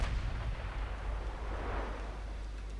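Naval guns firing shells during a battleship engagement in Ultimate Admiral Dreadnoughts, producing a continuous deep rumbling roar of heavy gunfire that stays loud throughout.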